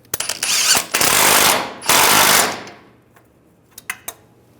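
A power impact tool tightens nuts on the passenger-side differential bracket of a 2007-2013 Chevrolet Silverado, with two loud close rattling bursts, then a few short clicks and taps as it trails off.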